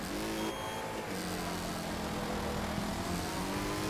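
A car engine in the racing video game Wreckfest roars up and holds a steady, buzzing drone, loud and close, with no talking over it.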